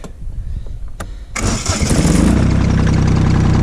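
A Mahindra eMax 22hp compact tractor engine cranks and catches at about 1.3 seconds, then settles into a steady, loud idle that gradually gains revs after a brief quiet lead-in.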